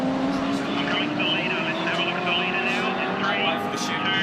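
Holden 308 V8 touring car engine droning at speed in a race, a steady harmonic roar with shifting pitch, under continuous commentator-style talk.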